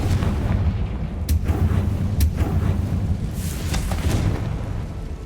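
A Confringo fire spell explodes in the video game Hogwarts Legacy, a loud rumbling blast with crackling bursts that rolls on for several seconds, dense and close with no talk.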